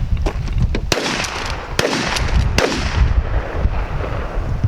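A 12 gauge Mossberg 500 shotgun fires about three loud, sharp blasts outdoors, each followed by a rolling echo and low rumble.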